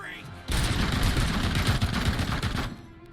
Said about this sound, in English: I think we just found the heavy machine guns.